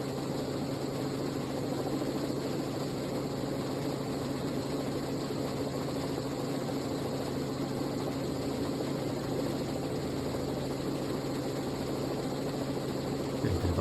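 A Robinson R44 helicopter runs on the ground before a student's first solo lift-off, a steady, even engine and rotor drone throughout, moderately loud and unchanging with no talk.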